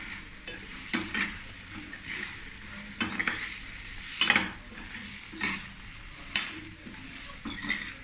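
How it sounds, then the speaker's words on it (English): Fried idlis stirred into a sizzling mixture in a pan, repeated scraping strokes of a spoon against metal over a continuous frying hiss, no voices. "Now we're going to add our idlis. I have about 4 fried idlis in this."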